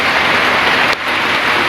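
Rain pours steadily onto a surface, a loud, dense and continuous hiss with no voices and only a brief dip partway through.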